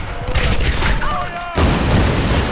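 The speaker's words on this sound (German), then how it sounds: "Ah, jetzt den Granatenwerfer." A grenade launcher explosion in the video game Tomb Raider lands as a single heavy, broadband boom partway through, after a stretch of voice and game sound, followed by a dense rumbling tail.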